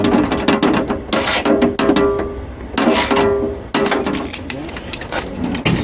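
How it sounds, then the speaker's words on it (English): Ratchet tightening a bolt on the rear door of a 2010-2016 Toyota Prius during window glass replacement, giving repeated bursts of close metallic clicking, loud and up close, with pauses between strokes. "you want to get a ratchet and just tighten it down"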